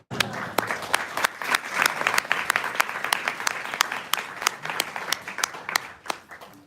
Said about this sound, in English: Thank you for your polite applause, but that's not enough.